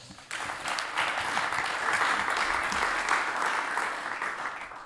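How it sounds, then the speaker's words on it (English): A studio audience claps warmly to welcome a guest, the applause starting abruptly and holding at a steady, even level before tapering slightly at the end. "Give her a warm round of applause."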